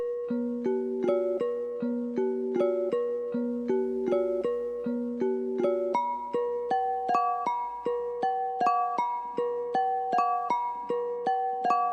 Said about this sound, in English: So after that, I added this bell.